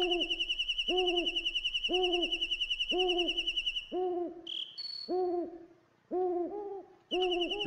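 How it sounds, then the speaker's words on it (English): Repeated owl hoots from the video game Breath of Fire III, a steady rhythmic two-note call looping about every second over a high sustained tone, briefly interrupted by other game effects before resuming, loud and close. "is that owl noise getting really, really, really, really annoying?"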